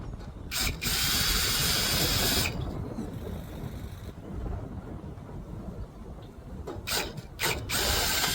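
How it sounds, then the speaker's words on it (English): A drill with a 1/8 inch bit whirring loudly through metal in steady bursts, pausing briefly, then boring again with rising and falling motor noise. "The 1/8 drill bit."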